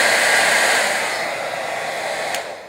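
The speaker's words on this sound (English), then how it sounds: "I'm hitting this with the hairdryer" A handheld hair dryer blowing hot air onto a spot of essential oil, a loud steady whooshing hiss close to the microphone that eases slightly toward the end, with no talk.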